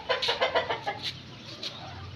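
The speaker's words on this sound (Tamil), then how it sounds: "சேவல் பாருங்கள், கோழி பாருங்கள்." A rooster and hen cluck in a quick burst of several sharp calls, then a few sparser clucks over faint background noise, with no speech.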